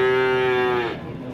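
A single loud, close moo from a Javanese crossbred cow at a livestock market, steady and drawn out for most of a second before trailing off into faint background noise.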